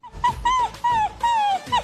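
A dog whimpering and yipping in a series of four or five high, drawn-out whines with short pauses between, close and clear, alone without talk.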